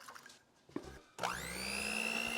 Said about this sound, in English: you're gonna cream this together with a mixer or a hand mixer